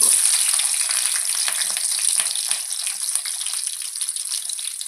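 Onions and green chillies fry with tempering spices in about three spoons of hot oil in a kadai, giving a loud, close, steady sizzle that holds throughout with no voices.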